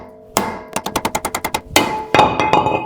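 Hammer blows knock a brake rotor off a Toyota: a sharp strike, then a quick run of about ten even metallic hits, followed by a few heavier ringing clanks, close and loud.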